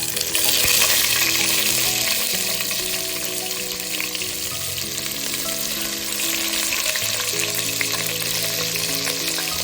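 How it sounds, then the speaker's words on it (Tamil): Crushed shallots frying in oil for a fish curry, a loud, dense, continuous sizzle with occasional stirring scrapes, close and steady with no voices. "இந்த நச்சு வச்ச வெங்காயத்தை, சின்ன வெங்காயத்தை எடுத்து அப்படி போடுங்க."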